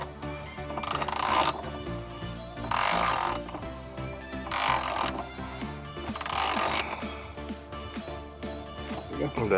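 A wrench works on shifter bushing bolts, giving bursts of sharp metallic ratcheting clicks in short rhythmic runs, close up, separated by quieter pauses with light handling noise.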